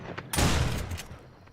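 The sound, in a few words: gunshots from the video game True Survival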